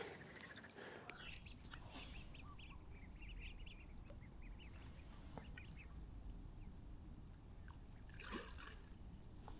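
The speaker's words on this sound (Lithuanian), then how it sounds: "9 vaikučiai ir viena mamytė. 10 ančiukų." A mother duck with her ducklings on a reservoir during a feeder fishing trip, scattered faint quacks and small calls over a low, quiet outdoor background.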